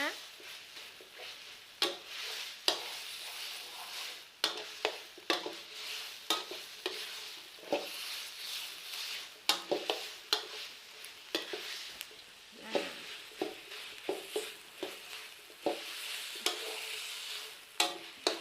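Pork belly is stir-fried with southern Thai curry paste in a pan, with a constant close sizzle broken by frequent spatula scrapes and clanks against the pan. No talking is heard.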